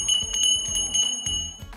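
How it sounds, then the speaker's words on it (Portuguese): A bell, sounded by an internal clapper or an external hammer, rings with bright, sustained tones, repeated strikes layered over a low, ongoing resonance, fairly loud and close. "O sino pode ser tocado através de um badalo interno"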